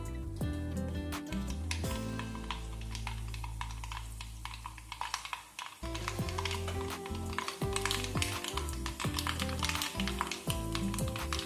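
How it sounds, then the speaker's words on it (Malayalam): Hot oil sizzles steadily as mustard seeds splutter, dense crackling and popping, sharp spits over a loud frying hiss and background music. "എണ്ണ നന്നായിട്ട് ചൂടായി, നമുക്ക് കടുകിട്ട് കൊടുക്കാം."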